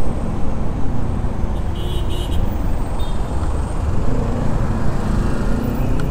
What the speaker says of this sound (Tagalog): Traffic and Pasig City.